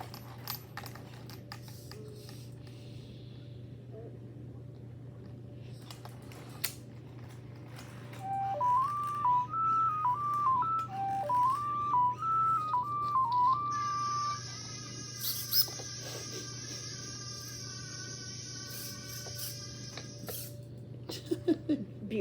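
Aibo robot dog making space sounds: a rising and falling sequence of soft electronic tones like a little melody, then a brighter buzzing chirp, heard close in a quiet room over a low steady hum.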